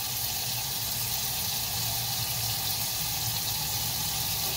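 A kitchen tap runs steadily as water pours to warm it for pizza dough, a continuous hiss at even loudness throughout.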